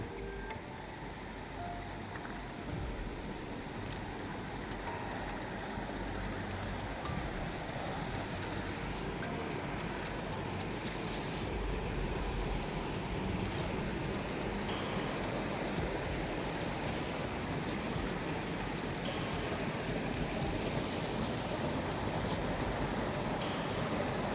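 A small river flows in a steady, continuous rush of water throughout, moderately quiet and without talk, as if heard from the bank.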